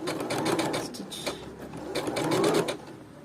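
A Bernette sewing machine sews a pico rolled hem stitch, its needle mechanism chattering in fast rhythmic bursts, close and clear, slowing briefly in the middle before speeding up again.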